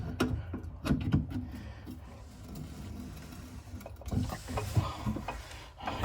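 A sink plumbing fitting is tightened with a few close clicks and metallic ratcheting knocks over a low background rumble.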